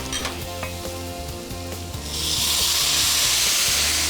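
Cumin, coriander, garam masala, turmeric and lentils hit a hot pan with cream in it. A quiet stirring rasp with soft knocks turns into a loud, bright, steady sizzle partway through. No voices.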